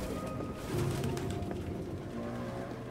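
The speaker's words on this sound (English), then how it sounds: "All these damn pigeons, bro." Pigeons cooing in the game Detroit: Become Human, soft low repeated coos over a steady, busy ambient background.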